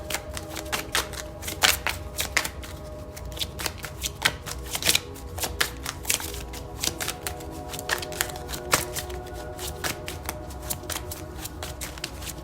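Oracle cards are shuffled continuously by hand, making rapid, close, crisp riffling and flicking sounds in an uneven rhythm throughout.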